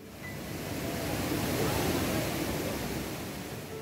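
Seetharkund waterfall flows as a steady, broad rushing roar of falling water, constant and fairly loud throughout with no clear breaks.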